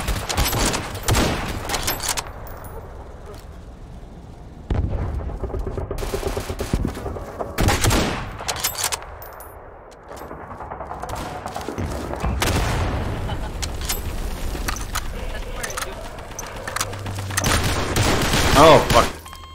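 Bursts of gunfire in Garry's Mod on a roleplay server: rapid volleys and scattered single shots crack loudly in clusters with pauses between, close by, while a person talks over parts of it.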